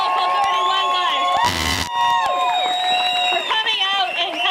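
A crowd at a Teamsters Local 213 rally cheers, whoops and claps for the Local 31 truck crew, loud and sustained with shouting voices layered over continuous applause and a brief burst of noise midway.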